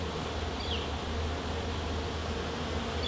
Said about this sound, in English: So this is a honey frame, bees moving very slowly there.